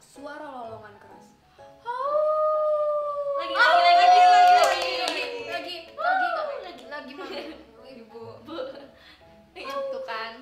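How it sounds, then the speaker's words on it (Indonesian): Loud, drawn-out howling echoes through a forest, rising and falling over several seconds, with shorter vocal cries around it. "Di dalam hutan bergema suara lolongan keras"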